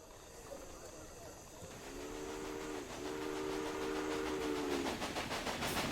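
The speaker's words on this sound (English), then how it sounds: "Oh, I hear my train." A steam train in the Railway Empire game sounds a long two-part whistle over a steady rolling rumble of wheels and chuffing that grows louder as it approaches.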